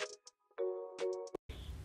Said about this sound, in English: don't forget to push the notification bell to be notified when I post a new